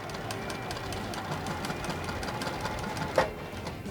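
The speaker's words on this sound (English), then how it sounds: "as you're sewing these lines" A sewing machine runs continuously while stitching quilt lines on a puff quilt, a steady rapid hum with regular needle ticks and a short bump near the end.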